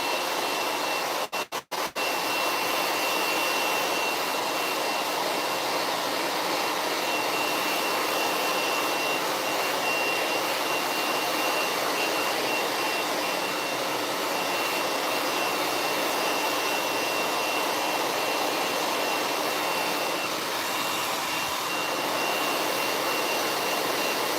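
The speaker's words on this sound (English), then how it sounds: "Hold the hair tight and blow dry." Steady loud blast of a hair dryer blow drying hair tightly held for a smoothing-treatment blowout, a continuous broadband rush that holds without pause.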